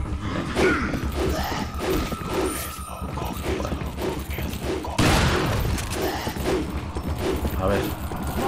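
Shotgun blasts from Resident Evil 4 gameplay, a loud burst of gunfire early on and another heavy blast near the middle, with game sound effects and music in the background.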